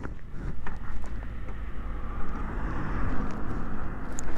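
A Yamaha Virago XV125 V-twin chopper motorcycle idles in neutral with a low, steady rumble, accompanied by some wind noise across the microphone.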